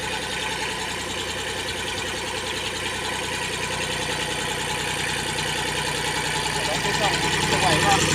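A Kubota L2000 4x4 tractor runs with the PTO engaged while mowing overgrown grass, a steady close diesel drone with rhythmic knocking that stays constant and swells slightly toward the end.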